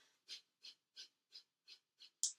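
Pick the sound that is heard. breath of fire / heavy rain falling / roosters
breath of fire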